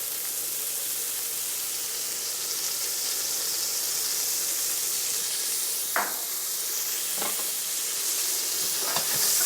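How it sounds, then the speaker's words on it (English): Pancetta, garlic and green peas sautéing in a pan for carbonara, a steady broadband sizzle throughout with a few sharp stirring scrapes near the end, close and moderately loud. "And now just saute this lightly."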